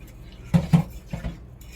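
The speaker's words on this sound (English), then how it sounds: "add our peppers and onions and celery back to it. We're going to give that a stir." Spoon clinks and scrapes in a pot as peppers, onions and celery are stirred into a thick, creamy shrimp and grits sauce, a few soft clattering strokes close by.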